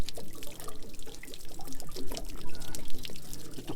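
Water pours and trickles steadily from the drain opening of a leaking RV water heater once its plastic drain plug is pulled, a close, continuous splashing flow with no talk.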